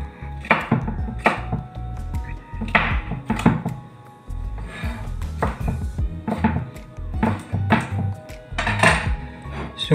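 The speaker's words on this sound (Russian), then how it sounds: "Его также нужно нарезать крупно" A knife chops pork-stew ingredients coarsely on a wooden board, a series of distinct, fairly close thunks in uneven bursts across about ten seconds, with a brief pause midway.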